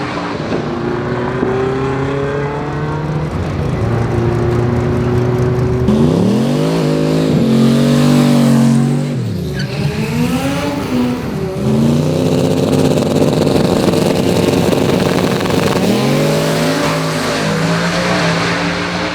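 A 3000HP Camaro drag car at a drag race event roars loudly through a strip pass, its engine note climbing and dropping through several sharp rev swings and gear changes, staying close and dominant throughout with no talk.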